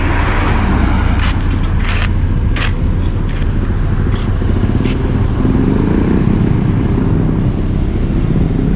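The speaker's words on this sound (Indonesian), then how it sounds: "Wah, truk ngeblong, mantap." Loud, continuous road roar from a truck overtaking on a Sumatran highway, a steady engine and tire drone filling the whole stretch with no talk.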